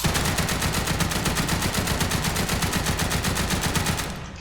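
Rapid semi-automatic gunfire from a weapon in the video game Grave/Digger, a dense, loud, evenly spaced burst of shots lasting several seconds before cutting off.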